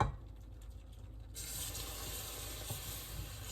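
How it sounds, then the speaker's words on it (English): Milk streams slowly into a cooked blonde roux, a soft continuous pouring and bubbling hiss up close that thickens after a quiet start. "Now that my blonde roux is cooked, I'm going to slowly stream in my milk."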